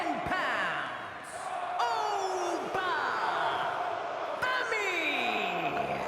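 A WWE 2K26 arena crowd roars in the video game as a 310-pound wrestler from Lagos, Nigeria makes his entrance, sustained loud cheering under swooping entrance effects and a brief spoken name.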